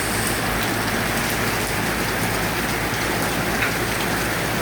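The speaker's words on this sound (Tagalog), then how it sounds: "Malakas ang ulan." A storm downpour hammers steadily on nearby surfaces, a thick, constant hiss of rain with no voices or pauses.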